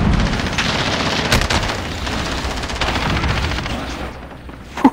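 Video game combat with dense gunfire and grenade blasts, rapid overlapping shots and booms at close range, loud and continuous, ending in a couple of sharp bursts.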